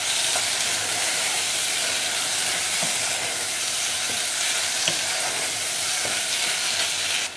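Prawns and potatoes stirred in a frying pan for Goan-style fenugreek bhaji, a continuous hissing sizzle with occasional soft scrapes of the spoon.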